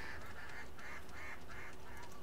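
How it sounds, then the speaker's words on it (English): Ducks or duck-like creatures in a video game world give a string of about six nasal honking calls in a steady rhythm, moderately loud over a constant low ambient hum, with no talking. "Apparently they have ducks on this world."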